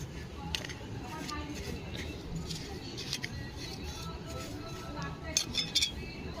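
Bone meal and horn meal fertilizer being stirred together for a rose plant, giving scraping, clinking sounds with a few sharper metallic clicks near the end over a steady low rustle, with a voice speaking in places.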